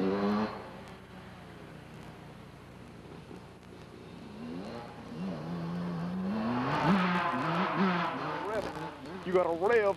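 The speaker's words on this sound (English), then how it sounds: "You gotta rev that sucker. You gotta rev it like you never revved it before." A dirt bike engine revs in rising, wavering bursts under ongoing talk, climbing louder toward the end with sharp throttle blips.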